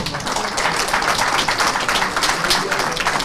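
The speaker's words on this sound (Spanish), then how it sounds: "Fuertes aplausos para él, por favor" A conference audience at a congressional session on the new criminal procedure code applauds: dense, steady clapping that fills the room evenly and continuously, with no voices standing out above it.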